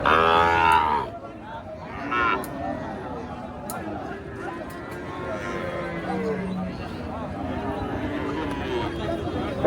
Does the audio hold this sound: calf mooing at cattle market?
yes